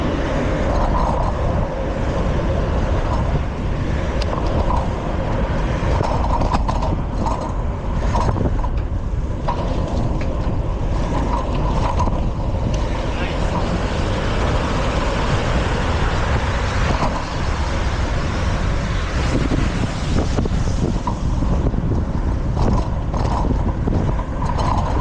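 Continuous rumble of city traffic on a Boston street heard from a bicycle, steady and close with heavy wind buffeting over engine noise throughout, no clear voices.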